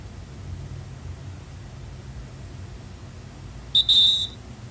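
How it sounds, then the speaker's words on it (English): A referee-whistle alert from an iPhone timer app sounds as one short, shrill blast near the end, after several seconds of faint background hiss. "we can see the default step ending sound of referee whistle happen"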